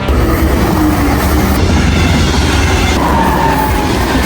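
A steady, loud rumble of a train at a railway station fills the air, with faint metallic squeals over a constant low roar, on a windy day with rain clouds.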